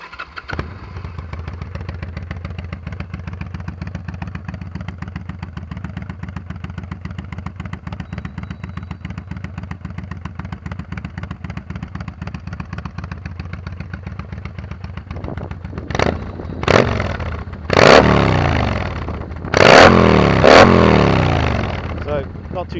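A Kawasaki VN800 Drifter motorcycle idles with a deep, bassy exhaust rumble, then revs sharply several times, each throttle blip loud and close.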